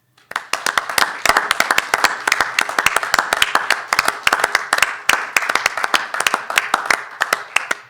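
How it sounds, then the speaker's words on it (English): An audience at a criminology symposium gives a round of applause in memory of a colleague, dense clapping from many hands filling the room steadily for several seconds, close and loud with no talk over it. "can we have just 1 second, a round of applause for Carlos' memory?"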